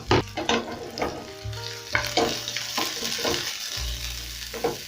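Onions dropped into hot cooking oil in a pan for sautéed spinach, sizzling and crackling steadily up close, with repeated stirring scrapes and clinks at intervals.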